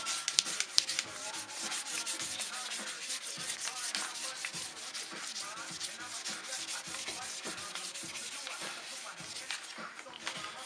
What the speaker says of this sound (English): You don't have to sand really hard